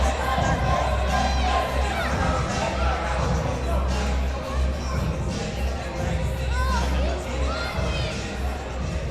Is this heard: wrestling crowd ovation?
yes